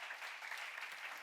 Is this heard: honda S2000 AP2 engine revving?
no